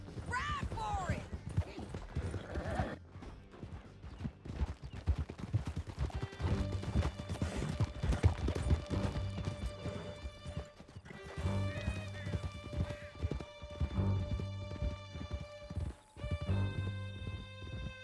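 Horses gallop in Red Dead Redemption 2 with rapid, steady clip-clop hoofbeats and an early whinny, continuing under a tonal music score and shouted voices throughout.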